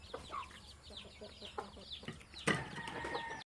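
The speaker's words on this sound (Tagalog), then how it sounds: "tapos na tayo nakapakain sa ating manok" Backyard chickens cluck repeatedly close by after being fed, a loose run of short clucks and squawks over a quiet farm background.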